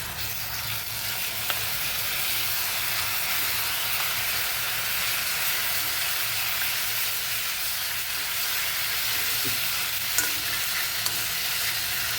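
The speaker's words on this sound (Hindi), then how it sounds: "और अब हम इसके अंदर डालेंगे जो हमने अनियन वगैरह का पेस्ट बनाया था वो।" Onion paste sizzles and fries in a pan on low heat for Kashmiri methi chaman while it is stirred, a steady loud hiss with occasional faint scrapes.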